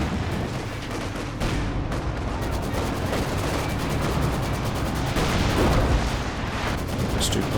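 Artillery barrage in the strategy game Company of Heroes 2, a dense, continuous rumble of booms and gunfire layered over a busy battlefield mix, loud and sustained throughout without distinct separate blasts.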